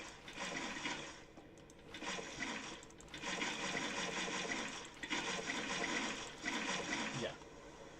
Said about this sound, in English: Go in here, and there's water.